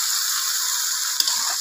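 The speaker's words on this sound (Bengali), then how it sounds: "একটু নাড়াচাড়া দিয়ে দাও।" Fish curry with potato and eggplant cooking in a pot on a clay stove, a steady bubbling hiss with a brief scrape of stirring near the end, close and alone.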